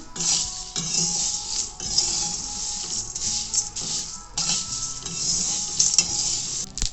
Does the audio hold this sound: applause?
no